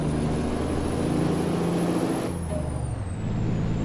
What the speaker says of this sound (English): It's the blow off or the turbo spool down.